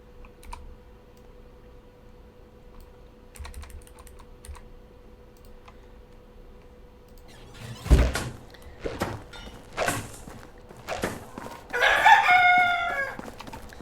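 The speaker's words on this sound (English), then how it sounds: "Chickens are talking today." Chickens clucking and a rooster crowing in Medieval Dynasty, game audio heard after a stretch of faint keyboard typing and clicking, with thumps and a clear crow rising near the end.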